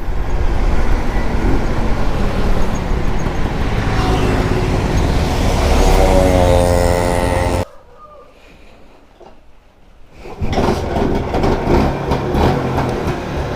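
An idling 27-year-old Bajaj Chetak scooter engine, loud and steady for several seconds, breaks off into a quiet lull before resuming; a steady broadband roadside rumble dominates with no speech heard.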